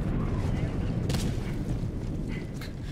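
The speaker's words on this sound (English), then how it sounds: "I've seen the explosion in the distance." A distant explosion rumbles in the Helldivers 2 game, a low boom rolling under steady battle noise for a few seconds, with voices talking over it.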